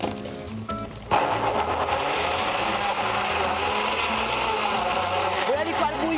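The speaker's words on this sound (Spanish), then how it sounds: "Vamos a licuar." A blender whirs loudly and steadily, blending a sauce of basil, oil and spinach. It starts abruptly after a second of quieter sound and keeps a harsh grinding roar to the end.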